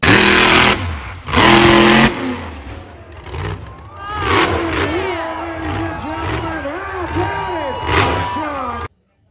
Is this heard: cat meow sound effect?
no